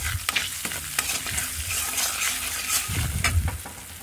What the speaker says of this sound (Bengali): নুন আর হলুদ দিয়ে 1 মিনিট মতন আমি নেড়ে চেড়ে নেব।